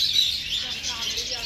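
Lovebirds in a zoo aviary giving a faint, continuous cluster of high chirps and tweets, several birds calling at once at a moderate distance.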